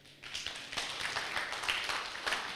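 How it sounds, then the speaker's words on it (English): An audience at a peer educators academy event breaks into applause, a dense wash of many hands clapping that starts abruptly and stays fairly loud and even throughout. "Can you clap for me?"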